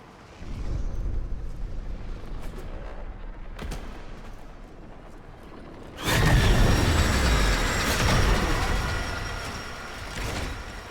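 A train rumbles past in a video game, a loud roar that swells in at mid-point and stays dense to the end, following a quieter stretch of low rumble and thuds.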